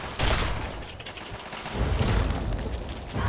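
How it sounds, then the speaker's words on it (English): Enemy gunfire in Fallout 3, a dense fusillade of shots with booming impacts and mechanical clatter filling the scene, swelling again toward the end. "You got a lot of people shooting at you"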